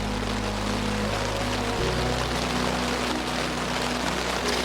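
Continuous rain pattering on a tent in the Mourne Mountains, with a low steady hum underneath that shifts partway through; no one speaks.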